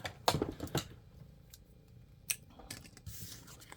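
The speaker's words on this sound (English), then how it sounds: "Get my small scissors." Small scissors snip an envelope in quick, sharp cuts close by, a few clustered snips at the start, then sparser clicks and rustles.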